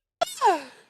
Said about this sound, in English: that was puppy yawning